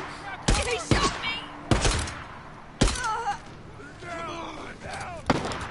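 Gunshots in the video game Days Gone, four or five loud, close, separate shots with echoing tails, spaced irregularly, with voices shouting between them.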